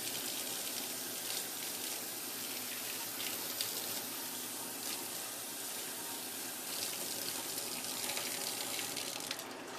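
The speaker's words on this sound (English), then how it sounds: "you get some pretty warm water. Just give it a quick rinse." Warm tap water runs steadily while a drip coffee urn is rinsed out, a continuous splashing gush at moderate level with no talking.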